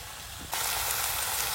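Meat sizzles loudly in a hot pan as it is stirred, a steady broadband hiss that jumps up suddenly and holds for over a second, in a village kitchen.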